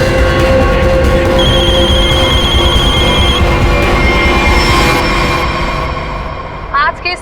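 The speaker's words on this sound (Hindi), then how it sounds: "वीरेन, तुम्हारा फोन। फोन उठाओ वीरेन, फोन उठाओ।" A telephone rings loudly in bursts over a dense, rumbling background, the ringing stopping after a few seconds.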